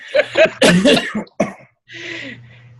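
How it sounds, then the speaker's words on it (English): A few harsh, close coughs in quick succession, followed by a raspy throat-clearing sound after a short pause. "I'm getting ready to cough"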